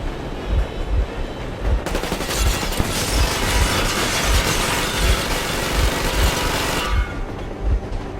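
Boat engine idling in the video game Metro Exodus, a loud close throbbing drone with a steady low pulse, joined midway by a dense roaring burst that fades after several seconds.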